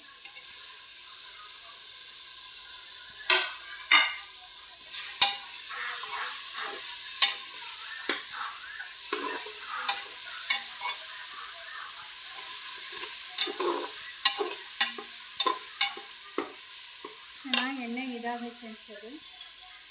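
Chopped tomatoes fry for mushroom biryani under a steady sizzle and hiss, with a spoon scraping and clinking against the pan in repeated short strokes, close up, and a brief voice near the end.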